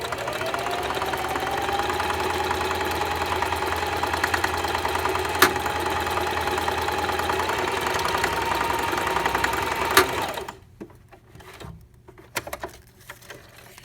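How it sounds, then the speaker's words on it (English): A sewing machine runs a seam through folded fabric with a steady, rapid mechanical whir and patter. After it stops there are a few quieter clicks and handling sounds. "So I'm going to go ahead and sew it up right now."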